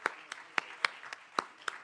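About eight sparse, evenly spaced hand claps at a YouthBuild commencement ceremony, faint and fairly quiet, like one person clapping rather than a full crowd.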